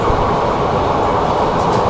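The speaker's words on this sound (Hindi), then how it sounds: "ट्रेन जो है 90+ स्पीड है" An express train from Jodhpur to Jaisalmer rushing along at over 90 km/h, heard from inside as a loud, steady rumble and rattle of wheels on track, with no talk.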